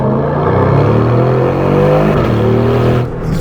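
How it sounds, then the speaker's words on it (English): A 2024 Aston Martin DB12 engine, 671 hp, drops through gears with loud, close revving, pitch stepping up and down as it downshifts, steady and continuous until a brief dip near the end. "Downshift, downshift."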